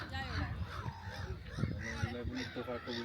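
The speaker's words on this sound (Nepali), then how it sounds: "यो कस्तो कराएको के हो चराहरू" Birds call with goose-like honks and caws at an outdoor carnival in Norway, loud and repeated, mixed with people talking nearby.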